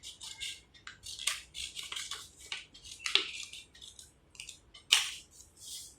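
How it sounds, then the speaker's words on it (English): Scissors snip through paper to cut the four corner angles off a paper quadrilateral, a run of crisp, close, irregular cutting strokes with a few louder snaps, and no talking. "With the help of scissors, I can cut these 4 angles."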